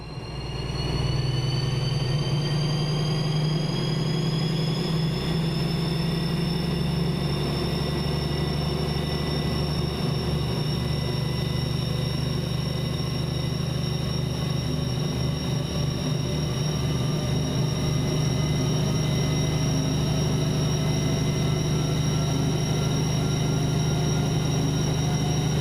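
BR 218 diesel locomotive engine running at full throttle in Train Sim World: a loud, steady low diesel drone with a rising, sustained whine building over time, continuous and close, with no talking.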